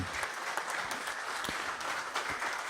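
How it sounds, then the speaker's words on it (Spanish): Steady, dense audience applause fills a conference hall honoring a guest lecturer, with a continuous patter of clapping hands and no speech. "Brindémosle un fuerte aplauso, por favor, al maestro Florencio Salazar Adame"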